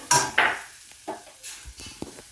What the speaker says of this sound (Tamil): இப்போ மிளகாத்தூளை போட்டுட்டேன். போட்டு சும்மா ஒரு பிரட்டிக்கிட்டு